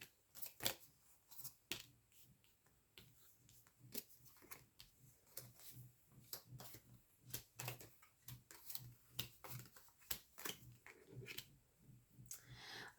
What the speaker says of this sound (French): j'installe les cartes.